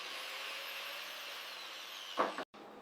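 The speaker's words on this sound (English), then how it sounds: "I'm carefully grinding the rust off the frame, revealing the original metal underneath." Steady, high-pitched whine of a grinder taking rust off an old motorcycle frame, continuous and close, with a brief harsher scrape near the end before it cuts off.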